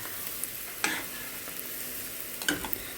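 Sautéed onion and carrot for plov fry in a pan with a soft, steady sizzle, broken by a few sharp scrapes of a spatula stirring close by.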